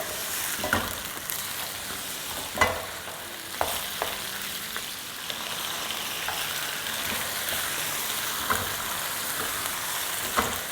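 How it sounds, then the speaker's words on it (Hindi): Chicken sizzles steadily in a pan with onions, ginger and garlic, a dense continuous frying hiss punctuated by occasional scraping stirs and clatters, close and fairly loud with no talking. "प्याज़ों के साथ, अदरक लहसुन के साथ चिकन को भूनेंगे 2-3 मिनट तक।"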